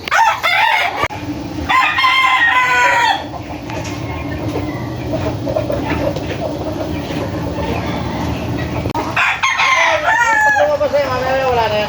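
Several chickens cluck and a rooster crows close by in a busy yard, with a steady rumble underneath throughout.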